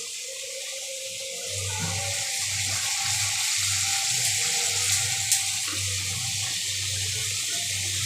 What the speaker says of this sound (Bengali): জল দিই।